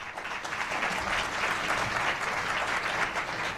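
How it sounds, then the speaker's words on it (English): Applause from guests in an audience at a televised political event, steady dense clapping filling the whole stretch, fairly loud with no voices over it. "the applause is not coming from these objective journalists assembled here, from news organizations, but rather from the guests"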